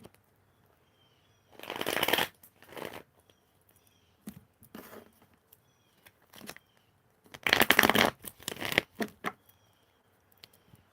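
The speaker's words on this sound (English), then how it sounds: "One more shuffle." Tarot cards being shuffled by hand, two louder riffling bursts with a few softer shuffles and taps between them, close and with no talking.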